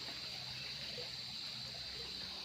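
A muddy, rain-swollen creek lined with riprap on a farm lot in Magdalena, Laguna rushes steadily, a dense, even hiss of flowing water with no pauses.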